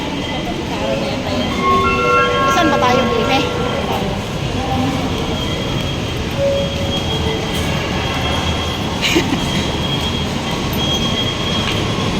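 A Manila MRT train rumbles steadily with high-pitched wheel squeals and brake tones over a constant background roar, voices faintly audible nearby.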